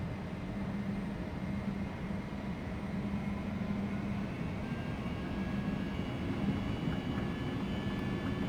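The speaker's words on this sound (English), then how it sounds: "let's commence our takeoff roll. So stick forwards and here we go. Spooling up nice and even, increase." Twin jet engines of an Embraer 195 in the X-Plane flight simulator spooling up during the takeoff roll, a steady broadband roar with a low hum that holds even and continuous.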